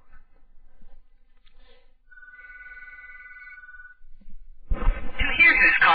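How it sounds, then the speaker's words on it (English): A telephone rings with an incoming call, a steady electronic tone lasting about two seconds before a voice begins speaking over a louder stretch. "your phone should ring again and display take a message"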